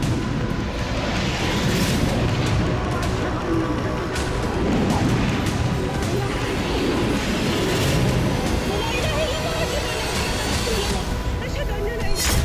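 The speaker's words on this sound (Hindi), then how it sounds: "रॉकेट और मिसाइल गोदाम में बम विस्फोट होने के बाद आग लग गई।" Bomb blasts and fire tearing through a rocket and missile warehouse at a militia site, heard as a continuous dense roar with rumbling booms and crackling bursts throughout, loud and sustained, with faint voices mixed in.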